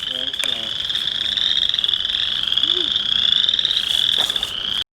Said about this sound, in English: Still trying to spot one of these frogs.